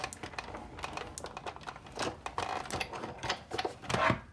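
A Big Shot die-cutting machine is hand-cranked to run card through, giving a close run of uneven clicking and ratcheting rattles with small crinkling sounds. It is fairly quiet and continuous for a few seconds.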